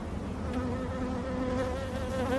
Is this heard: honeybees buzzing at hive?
yes